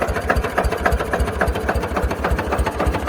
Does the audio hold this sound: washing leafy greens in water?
no